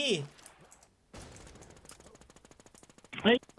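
Rapid bursts of automatic gunfire in an online multiplayer game on a role-play server, a steady rattling stream of shots in the middle. Someone talks excitedly at the start, and a loud vocal outburst comes near the end.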